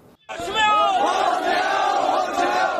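A protest crowd at Jantar Mantar in Delhi chants slogans in unison, a loud, sustained mass of voices starting abruptly after a brief quiet moment and rolling on with rising and falling emphasis.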